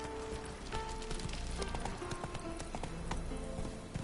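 Galloping hooves of a horse in The Witcher video game, a steady fast clip-clop rhythm over a dense, continuous game soundscape.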